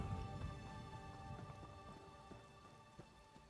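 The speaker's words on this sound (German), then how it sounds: "Das regnet." Steady rain falls in the video game Elder Scrolls Online, a dense continuous patter of drops with occasional sharper ticks, fairly quiet and unbroken by voices.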